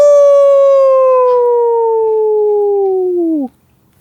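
A dog's single drawn-out howl, as if singing along to guitar music, holds a steady pitch and then sags and cuts off after about three and a half seconds. It sounds near and loud, with no guitar or other sound beneath it.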